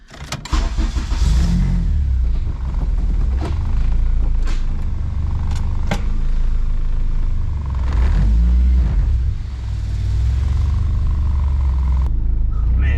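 A Honda car without power steering hums steadily while driving, with rises in revs and a few clicks and knocks from inside the cabin.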